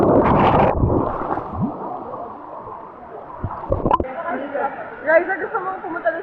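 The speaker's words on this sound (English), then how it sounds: "Lots of tourists around us right now. Too many people here. They're noisy." A noisy crowd of tourists at a waterfall on Siquijor: close, overlapping voices chattering loudly over faint gurgling water, with a few brief knocks in the middle.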